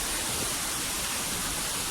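Large waterfall at the Çaylak Şelalesi campsite, a rocky gorge, heard as a steady, dense roar of falling water that fills the whole clip without a break.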